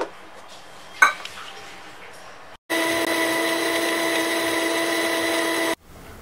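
Mixer grinder grinding coconut paste with a little water, starting after a short clatter of kitchen handling and running loud and steady for about three seconds before cutting off, no talk.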